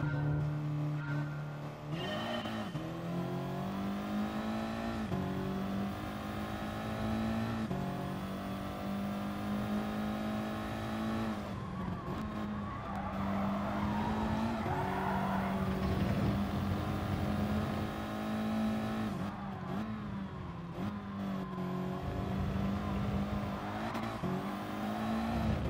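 A front-wheel-drive race car in Gran Turismo Sport drones through its gears, the engine note rising and falling as it shifts, with short bursts of tire squeal through corners. The sound is continuous and close, with no talking.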